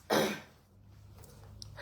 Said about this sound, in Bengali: আর আমার স্টুপিড কাশি আমার ভালো থাকতে দিল না